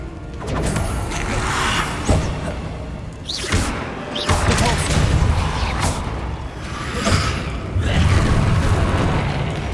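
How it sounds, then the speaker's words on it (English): A Protego shield spell blocking an attack during combat in Hogwarts Legacy, with loud, repeated booming impacts, crashes and rumbling blasts that swell and fade over several seconds. "Protego!"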